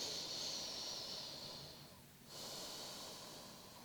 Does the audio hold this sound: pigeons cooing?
no